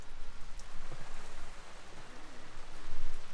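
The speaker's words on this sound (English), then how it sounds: "But the rain's starting to come down." Rain pattering steadily on a sailboat at anchor as a hurricane approaches, a dense hiss of drops with gusty swells, no voices.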